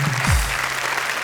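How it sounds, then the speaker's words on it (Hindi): An audience claps briefly after a Hindi comedy poetry recital, a short burst of applause that settles into steady crowd noise. "कविता समाप्त हो गई है, तालियां बजाइए।"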